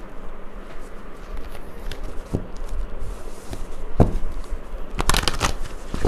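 Tarot cards being shuffled by hand at close range, soft rustling riffles with a few sharper snaps and a louder flurry toward the end.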